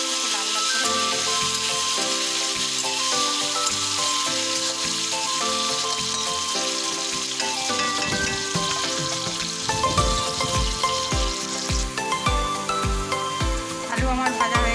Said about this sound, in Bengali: আলুটা একটু লাল লাল করে ভেজে নেবো